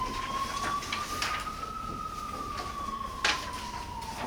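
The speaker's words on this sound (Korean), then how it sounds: "또 이렇게 사이렌 우려야 되지?" A siren passes outside, its single sustained wail rising and then falling gently, heard at a moderate distance behind a few faint knocks and room noise, with no talking.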